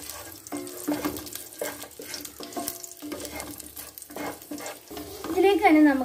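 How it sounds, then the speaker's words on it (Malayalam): Cashews and raisins sizzling in hot ghee in a kadai while being stirred, a bright crackling fry with clinking and scraping of a spoon, close and continuous, getting louder near the end. "നമുക്ക് ഇതിലേക്ക് അണ്ടിപ്പേപ്പും മുന്തിരിയും ചേർത്ത് കൊടുക്കാം."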